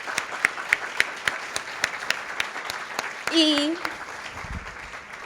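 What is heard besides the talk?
audience applause at a congress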